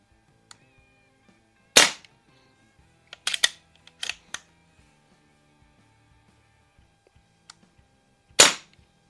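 A Diana Chaser carbine air rifle on a Buck Rail fires in a quiet setting: a sharp, close pop, then a quick cluster of smaller snaps, and one more crisp shot after a long pause.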